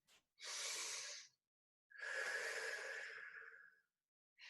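Two long, deep breaths during a hands-and-feet flexibility fitness class, each a drawn-out airy inhale or exhale lasting about a second or more, close and clear with silence between them.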